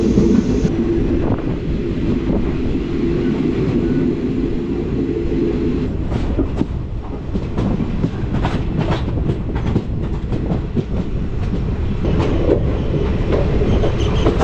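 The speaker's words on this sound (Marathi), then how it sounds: "सावडा रेल्वे स्टेशनवरती 1 नंबरवर गाडी आली." A Tutari Express train on the Konkan Railway rolls loudly into a station, its steady rumble mixed with rhythmic wheel clatter over rail joints and some faint squeals. The sound is close and continuous, and there is no talk.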